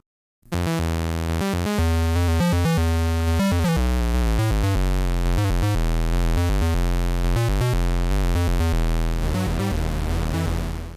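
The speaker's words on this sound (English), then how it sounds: "And it starts on a sawtooth wave." A buzzy MARS tube synthesizer plays a steady rhythmic pattern of repeated notes, its oscillator shifting partway from a bright, raspy sawtooth wave to a hollower square wave buzz.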